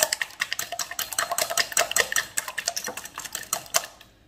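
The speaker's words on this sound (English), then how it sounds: "I'm just going to whisk up these eggs." Eggs being whisked in a bowl with a utensil, a quick steady run of light clicking taps against the bowl's side, close and fairly quiet, stopping abruptly near the end.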